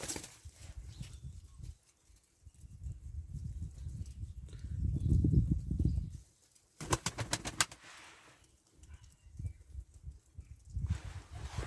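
White domestic pigeons cooing nearby in low, throaty rolling bursts that swell and fade, with a brief fluttery burst of noise midway.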